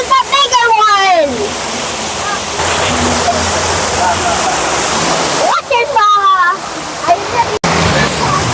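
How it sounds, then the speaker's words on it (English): A river waterfall in Bogor roars loudly and steadily nearby, a broad rushing wash of water, with people's voices talking over it at the start and again near the end. "Then it's a waterfall."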